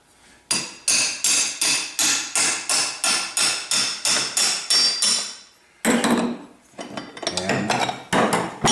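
A hammer strikes a brass punch to drive a wrist pin out of an aluminium piston: about a dozen sharp, evenly spaced metallic blows, then a pause followed by a few faster, irregular knocks, close and loud.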